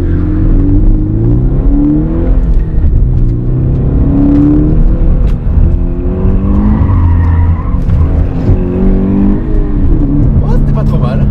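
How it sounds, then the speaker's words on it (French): A Toyota GT86 accelerates and drifts, its engine revving loudly and close with rising and falling pitch sweeps while tires squeal, a voice talking over the roar. "on va tester la glisse de la GT86 après la M3 du coup"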